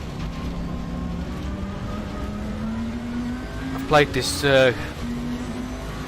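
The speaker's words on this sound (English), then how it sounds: "they've definitely captured that raw, throaty sound of this big old car" A low, throaty race car engine in Assetto Corsa Competizione drones steadily throughout, rising slightly in pitch, with a person talking briefly over it near the end.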